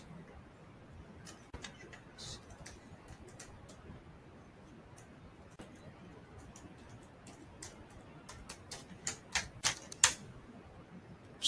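Fingers tap keys on a computer keyboard while entering a password, a scattered series of sharp, faint clicks that quicken into a denser run near the end over low room hiss.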